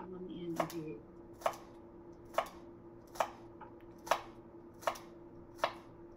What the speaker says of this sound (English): chop the celery into little pieces